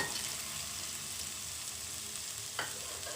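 Fried prawns go into a sizzling spice paste in a pan for chingri malaikari, a faint continuous crackle with one short scrape of stirring near the end, heard alone without speech.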